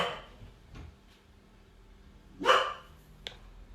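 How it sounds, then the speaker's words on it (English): A single dog bark rings out, fairly close, with a couple of faint thumps and a quiet room around it. "Sorry, that was my dog"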